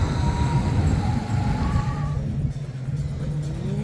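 Roller coaster trains at Walibi Holland rumble steadily past with a low mechanical drone and faint rising whine, loud and close, settling into a lower hum.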